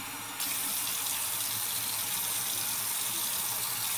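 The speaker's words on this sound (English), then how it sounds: "Get nice cold water on one side. Rinse it out." Cold tap water gushes into a kitchen sink to rinse a dish. It starts abruptly and then runs as a steady, close, rushing stream.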